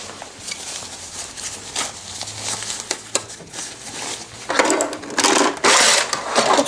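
A sewing machine stitches a sleeve seam on a shirt or jacket, running in bursts of fast mechanical whirring that grow louder toward the end, with brief pauses between runs and no voices.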